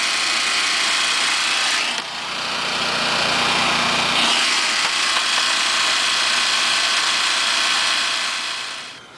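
The engine of a 1983 Toyota Sunrader camper idles steadily at close range, a loud constant mechanical whir with a brief shift in pitch partway through.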